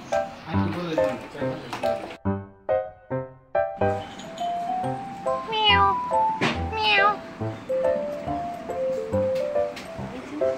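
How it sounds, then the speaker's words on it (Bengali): Several Persian cats in a house meow repeatedly, some loud and drawn out, others short and overlapping, with people talking around them. "পার্সিয়ান বিড়াল"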